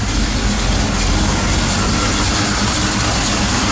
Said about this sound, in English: I've got my 1973 Z28 warming up